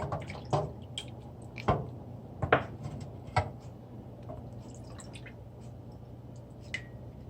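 Tamarind juice with ice sloshes and clinks in a cup with a few irregular stirring knocks, quiet and close, then the sound settles into faint swishing.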